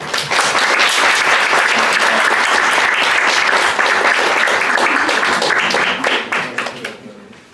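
An audience at a university talk bursts into sustained, loud applause, a dense wash of clapping that holds steady before thinning into a few scattered claps and fading out.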